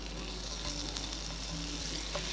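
Butter frying in a hot pan while making breakfast snacks, a steady close sizzle and crackle running evenly throughout with no talk.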